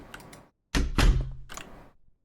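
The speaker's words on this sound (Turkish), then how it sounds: "Kapat kapıyı." A door thuds shut in the horror game Last Guest, one heavy close with a short rattle after it, preceded by a faint murmur.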